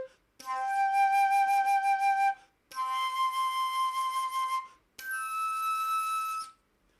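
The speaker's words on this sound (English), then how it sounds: "I'm going to use my flute and I'll just play it" Flute overblown to sound overtones two octaves higher with unchanged fingering, giving three sustained, piercing whistle-like tones separated by brief pauses, close and clear with no talking.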